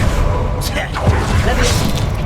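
In the Hogwarts Legacy video game, a Confringo fire spell blast goes off with a whooshing burst and dull thumps during a magical duel, with game voices mixed in.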